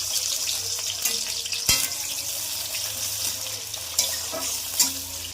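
Onions fry in hot oil with a bay leaf in a kadai, a continuous close sizzle with crackles. A dull thump sounds early on, followed by intermittent stirring scrapes and no speech.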